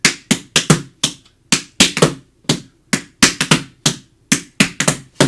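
Tap shoes strike a hard floor in a double cramp roll where the first heel drops too soon, giving sharp, close, dry taps in quick uneven clusters, steady and alone with no talk.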